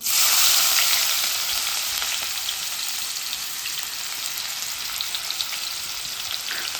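Continuous bright sizzle of onions frying in oil, loudest at the start as they hit the pan, then settling into a steady hiss.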